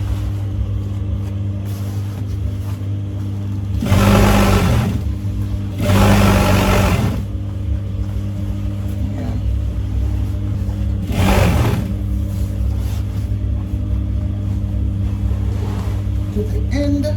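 Sewing machine stitching a pinch pleat hem in blackout drape fabric, running over pins, with three short loud bursts of stitching above a steady motor hum and background noise; no talking.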